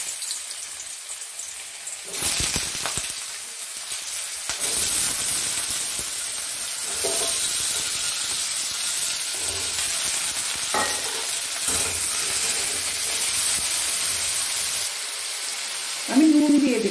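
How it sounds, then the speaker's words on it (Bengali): Diced potatoes fry in hot white oil in a wok, giving a loud continuous hissing sizzle with repeated scraping and clinking of a spatula stirring them, close by, with a brief voice near the end. "এবার আমি এই আলুগুলো ভেজে নেব।"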